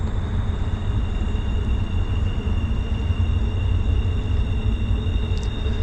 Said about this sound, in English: Anybody lives near a railroad, near a crossing, you very much get used to that sound.